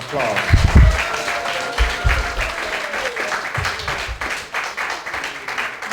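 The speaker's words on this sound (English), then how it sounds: "Let's give him a round of applause." Audience applause at a political live-stream event, a moderate crowd clapping steadily with some louder thumps and handling bumps, a speaking voice audible over the clapping.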